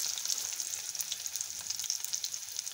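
Shami kababs frying over a low flame give a steady, close, fine-grained sizzle and crackle that continues evenly throughout without speech.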